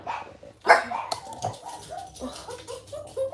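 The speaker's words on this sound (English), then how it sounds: "the dogs are barking again." Several dogs barking at someone at the door in a home kitchen, a burst of loud close barks and yips with some whimpering, repeating irregularly.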